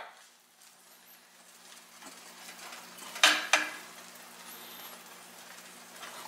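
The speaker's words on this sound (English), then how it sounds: "you can move the sausage without scraping the bottom with your fork" A sausage nudged around a frying pan with a fork under faint background sizzle: two sharp metallic clinks close together midway, the rest quiet rustle and hum.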